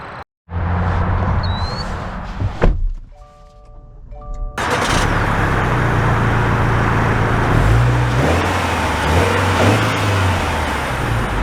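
A 2024 Subaru Outback Wilderness starts up with a short crank, then its engine settles and pulls away, giving a steady broadband drive and road noise that carries on to the end.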